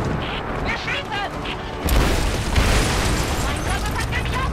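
In the Rise of the Tomb Raider game, an explosion strikes a helicopter with a sudden loud, booming burst partway through and a rumbling roar afterward, while voices talk over the combat.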